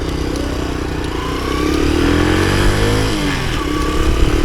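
A high-mileage Honda C110X Super Cub semi-automatic motorcycle is ridden, its small engine droning loud and close with wind noise as it revs and rises in pitch.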